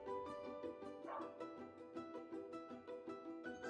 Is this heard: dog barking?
yes